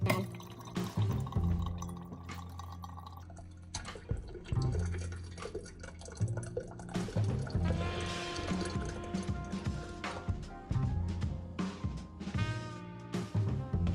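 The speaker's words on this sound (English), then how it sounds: "give the grounds an opportunity to kind of get wet in there" Water from a kettle poured over coffee grounds in a travel brewer, heard as a steady run of drips and trickles splashing into the grounds with no talking.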